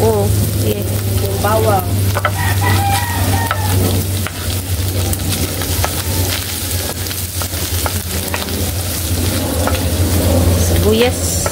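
Tomato and garlic sautéing in a pan for a pechay dish with ground meat, giving a steady close sizzle with stirring scrapes throughout while someone talks over it.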